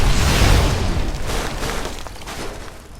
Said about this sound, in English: that was quite the explosion there